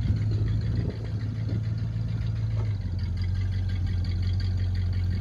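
A 1965 Oldsmobile Ninety Eight Holiday Coupé idling steadily through its dual exhaust with a deep, rumbling tone, close by and continuous, with a slight dip in level partway through.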